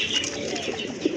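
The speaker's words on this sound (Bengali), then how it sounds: "মাশাআল্লাহ বোম্বাই কবুতর, অনেক বড় সাইজের কবুতর" A pair of large Bombay pigeons coos softly, with two short low coos near the end over steady background noise.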